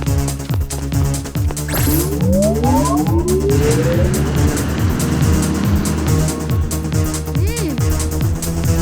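A cartoon truck drives along with a steady rumbling engine, overlaid with rising whooshes and busy animated effects, loud and continuous throughout.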